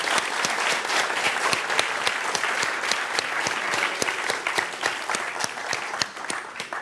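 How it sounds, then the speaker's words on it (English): A lecture-hall audience at a talk on the Milky Way's black hole applauds the team on stage, with dense, steady clapping that stays strong throughout and has no voices over it. "I'd first like to have a big applause for this team"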